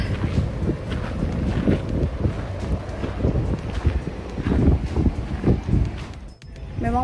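Gentle outdoor breeze buffeting the microphone in uneven gusts, rumbling loudly up close for several seconds before briefly dropping off near the end.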